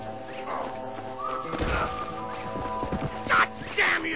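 Horse hooves clop across ground in the Red Dead Redemption game, sounding under in-game music and scattered voices, with a louder thud and rustle midway and a couple of sharper bursts toward the end.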